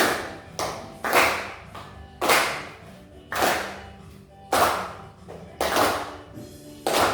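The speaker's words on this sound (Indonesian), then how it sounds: "kita tepuk tangan mengikuti irama" A class of fourth-grade pupils claps along to music in a steady repeating pattern, with sharp clustered hand claps of moderate loudness over a quiet musical backing and no talking.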